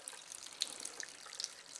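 Water is added to a small reagent test container holding drops of red test liquid, making a faint, close trickle with a few light splashy blips over a soft hiss.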